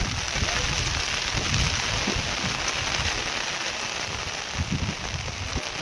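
Rain pours steadily outdoors during a monsoon downpour, a dense continuous hiss with scattered low thuds and spatters, moderately loud and unbroken throughout with no voices.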